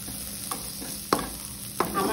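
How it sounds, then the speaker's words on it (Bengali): Paneer gets stirred in a hot pan with no added oil or butter: a soft background sizzle broken by three or four distinct scraping spatula strokes, close up and with no voices. "এটাকে নাড়াচাড়া করব"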